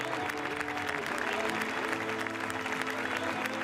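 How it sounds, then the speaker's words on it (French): Crowd applause for the winning crews at the 4L Trophy rally awards, sustained dense clapping with a steady tone humming underneath, loud and continuous. "Donc on les réapplaudit très fort."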